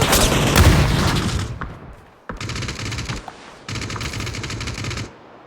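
Rapid automatic gunfire in PUBG, loud and close, with one long sustained burst followed by two more separated bursts after a brief pause.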